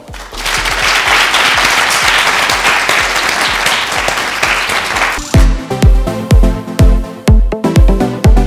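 Loud, dense crowd applause at a live café show, a full wash of many hands that gives way after about five seconds to booming, rhythmic music with heavy low beats.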